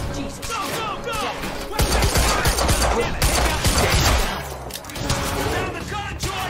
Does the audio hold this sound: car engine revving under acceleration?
no